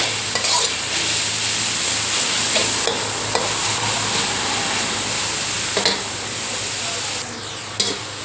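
Pork and baby corn stir-fried with sliced chili in a pan: a steady close sizzle and hiss with scraping stirs and a few louder clatters, no talking.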